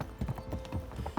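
A trail horse walks with steady, rhythmic hoof clip-clops, close and clear, in a short run of evenly spaced footfalls with nothing else over them.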